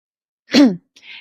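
A single sharp sneeze, close and loud, bursts out of silence at an outdoor forest gathering on herbal first aid, followed by a brief faint breathy sound.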